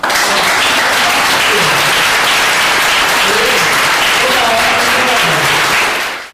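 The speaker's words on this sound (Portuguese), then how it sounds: "Então as palmas." A church congregation applauds with dense, sustained clapping that fills the space at a steady loudness, then cuts off abruptly at the end.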